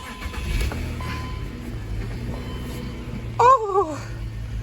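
A BMW X5 with a 6-speed manual gearbox starting up, a low engine rumble and cranking catching, then a short rise in revs near the end with a voice speaking briefly.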